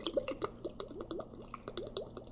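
Cold water pours into a blender container while a smoothie is being made, giving a soft, bubbling trickle with gurgling glugs at close range.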